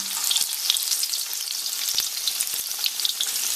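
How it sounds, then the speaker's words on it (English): Close, steady crackling sizzle of sweet potato slices deep frying in vegetable oil in a wok, with dense popping bubbles and no talking. "put them into the frying. Well, I'm using a wok here"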